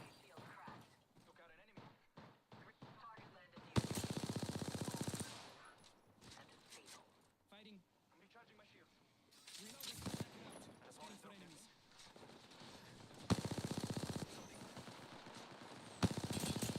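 Gunfire rattles in the Apex Legends battle royale game, with rapid automatic bursts and sharp single shots coming in loud clusters between quieter stretches, under game voice lines and player talk.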